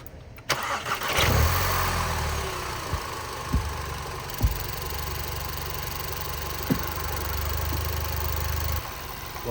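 A 2015 VW Jetta GLI engine cranks and catches, then settles into a steady idle with a few sharp clicks or knocks, running alone and fairly close during an engine flush.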